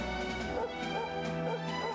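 A dog barks in the Nintendo Switch game Dragon Quest XI S, a short, faint yapping heard over steady game music.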